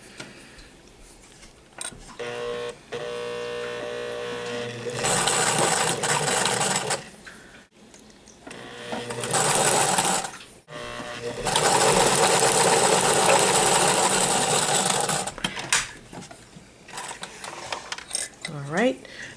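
A sewing machine stitches along a fabric neckline in two long, loud whirring runs. Short pauses and a quieter lead-in separate the runs, with brief speech near the start and end.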